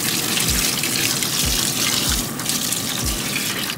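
Tap water gushes steadily into a pot being filled with about eight cups for birria, a continuous loud stream with a few low thumps, no talking.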